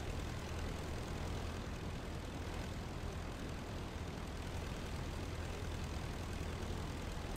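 A World War I–era biplane engine from the flight sim Rise of Flight drones steadily, a constant, full-bodied propeller roar with no breaks, close and loud throughout.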